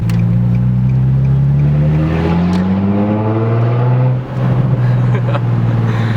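A car engine with no exhaust system revs loudly and steadily up close, its pitch climbing, then briefly dipping before revving again with a raw, unmuffled tone.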